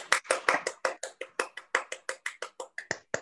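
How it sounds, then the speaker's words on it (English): A person claps their hands steadily, roughly sixteen sharp, evenly spaced claps in a quick, regular rhythm, close and clear with no talking. "let me clap for on the behalf of the entire audience."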